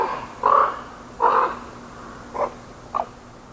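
A raven in Whitehorse, Yukon gives four harsh caws, two long and loud, then two shorter ones, evenly spaced over a quiet outdoor background.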